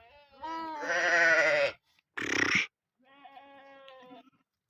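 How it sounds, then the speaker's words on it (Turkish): Sheep and newborn lambs bleat up close in three distinct calls: a long wavering cry, a short sharp burst, then a thinner, quieter bleat. "Şimdi koyunu kuzulu çekiyoruz"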